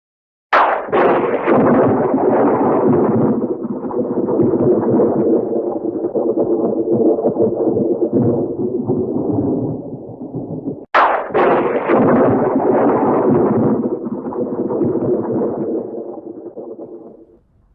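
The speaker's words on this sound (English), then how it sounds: "as the thunder rolled through the night sky" Thunder on a stormy night: two loud cracks, each opening into a long, rumbling roll that slowly fades, the second arriving after about eleven seconds.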